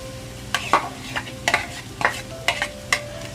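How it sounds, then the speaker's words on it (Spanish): Zucchini goes into a pan with onion and chiles, and a faint sizzle sits under a series of sharp, close scraping and clinking stirs at a steady, uneven rhythm, with no talking. "Y le voy a echar ya las calabacitas."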